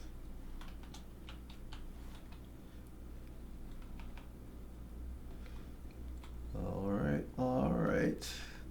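Code is typed on a computer keyboard in quick, irregular bursts of light clicks, followed by a voice talking near the end.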